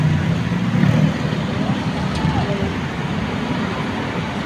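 Heavy, congested road traffic with many cars, trucks and buses: a continuous dense roar of engines and tyres, loud and close, with no clear pauses.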